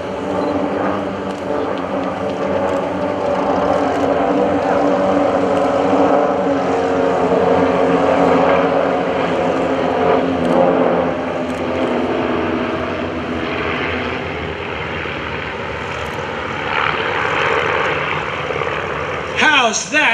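Team RV's formation of propeller airplanes flies past at an airshow over Greenwood Lake, a loud, steady droning engine roar that stays strong throughout and swells slightly toward the end.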